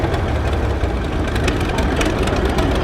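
An Allis Chalmers Model L antique tractor engine runs at an outdoor steam show in Maryland, a steady, loud, rough chugging idle with knocking pulses and no pauses.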